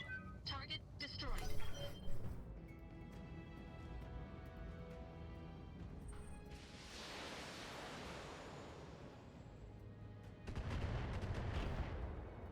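Rockets slam into a Spider mech in the BattleTech video game: a series of booming explosive impacts and rumbling blasts with crackling bursts, loud and layered, with a burst of shots near the start and heavy rumble later.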